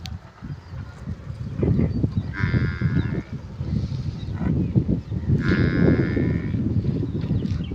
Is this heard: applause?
no